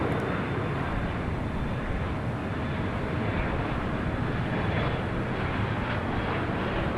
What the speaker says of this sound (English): let's go to the north side as we do have a United Dreamliner.